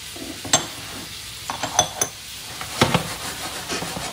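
Shrimp sizzle steadily in a pan while being stirred, with sharp clinks and scrapes of a utensil against cookware rising above the frying hiss.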